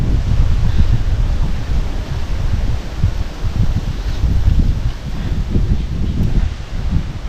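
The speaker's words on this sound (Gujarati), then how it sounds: "શું આજ વાયરો છો" Strong wind blows across an open farm field of fenugreek and chickpea crops, a loud, continuous buffeting roar with gusty surges and heavy rumble against the microphone.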